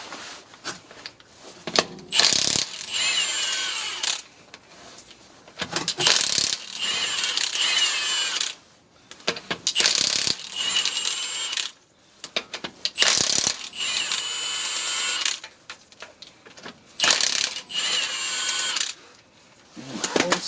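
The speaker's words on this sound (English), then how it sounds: "So let's start removing the tire" Ratchet wrench with a 17 mm socket loosening the wheel lug nuts on a 2011 BMW 323i E90, heard in repeated bursts of rapid close clicking separated by short pauses.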